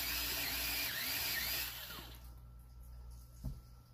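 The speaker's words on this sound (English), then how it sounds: "let me sharpen this. You need a super fine tip for this." A small sharpener grinds a coloring tool to a fine tip for coloring bricks, a close whirring buzz for about two seconds that then stops, followed by a brief knock.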